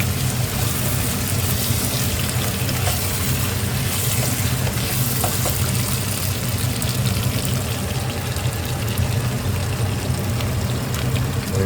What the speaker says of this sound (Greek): Ανακατεύουμε 3-4 φορές και ρίχνουμε το ζεστό νεράκι μας.